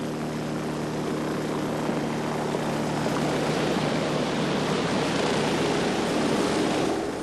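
A helicopter drones steadily and loudly, its rotor and engine noise constant throughout with no talk.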